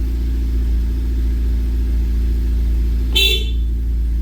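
A 10th-generation Honda Civic Type R gives one short, loud horn blast over a steady low engine idle hum, then the hum carries on alone.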